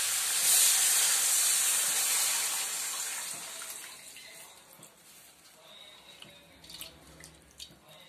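Soaked tamarind water being poured into a pan for an okra tamarind kuzhambu: a loud, steady splashing pour that eases off and fades into quieter clinks and movement, with no talking.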